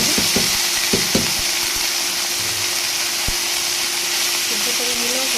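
Banana blossom sizzling in a pan with fried potatoes, a steady hiss of frying throughout with a few soft clinks and stirring knocks near the start.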